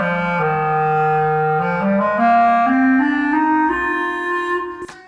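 A clarinet plays a slow rising scale of held notes, clear and reedy, close and steady, ending with a brief higher squeak.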